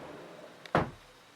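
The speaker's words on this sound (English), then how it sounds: "then you can take this finger pull and slide that door closed." A pocket door in a remodeled house slides closed by its finger pull, one brief rolling rush ending in a soft close, near and alone in a quiet room.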